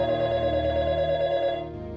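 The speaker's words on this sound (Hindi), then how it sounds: "कुणाचा फोन येलो?" A telephone rings indoors in a household scene, giving a sustained, tonal electronic ring that holds steady and then fades out near the end, with no talking over it.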